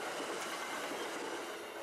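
A train rolls along the former RF&P mainline at Doswell, Virginia, a line carrying both CSX and Amtrak traffic, giving a steady, dense wash of rail and wheel noise that holds evenly loud throughout with no voices.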